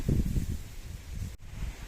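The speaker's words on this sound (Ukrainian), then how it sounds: "Вітер не вщухає." Gusty wind buffets the microphone in low, rumbling surges that rise and fall.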